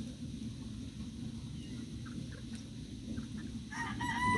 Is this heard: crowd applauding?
no